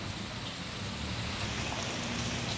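Heavy monsoon rain pours down in a steady, dense wash of noise, close and continuous, with no voices.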